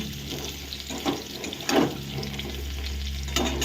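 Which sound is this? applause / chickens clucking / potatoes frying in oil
potatoes frying in oil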